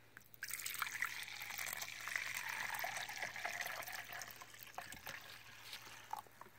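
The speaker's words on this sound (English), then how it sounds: "Pour it in." Vinegar pours into a container in a steady, close liquid trickle lasting several seconds, with a few splashy drips as the flow tapers off near the end.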